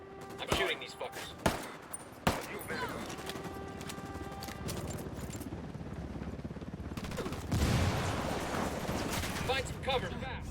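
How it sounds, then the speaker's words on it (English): Gunfire in the Ghost Recon Wildlands shooter game: a few loud, separate shots at the start, then a sustained noisy exchange of fire with a heavier burst later, over constant battle din. "I'm shooting these fuckers."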